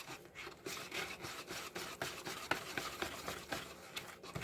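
Recipe ingredients being whisked together in a bowl for a maple festival treat, giving a steady, quiet scraping and swishing with rapid repeated strokes, close by and alone.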